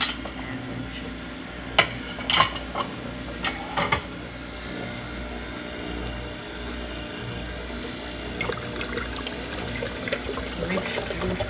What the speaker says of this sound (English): Rich juice coming out.